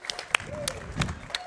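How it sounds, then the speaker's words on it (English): Clapping from an audience at the ESA 2024 speedrun event after a Hitman: Blood Money run, short and moderately loud, with scattered sharp claps over a soft crowd murmur. "Huge round of applause for Alpha there."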